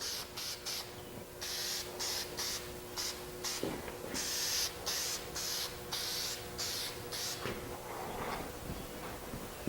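Spray gun laying down a finish coat, heard as repeated short bursts of hiss, close and fairly quiet, alternating with brief pauses and faint handling noises.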